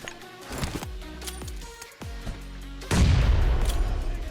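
Several sharp grenade blasts in the video game PUBG Mobile go off one after another, followed by a heavier, louder explosion rumbling on at the end, with no talking.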